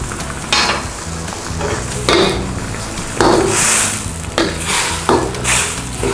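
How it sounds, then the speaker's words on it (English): Chicken blanching in bubbling, hissing water, with repeated clanks and stirring scrapes of a utensil against a pot, coming in bursts over a steady boil. "just let that come back up to the boil, blanch our chicken"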